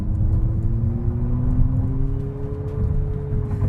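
A 2024 Abarth 500e electric car accelerating with its synthetic engine soundtrack playing, giving a steady rumbling drone with rising tonal whine, heard from inside the cabin and continuous throughout.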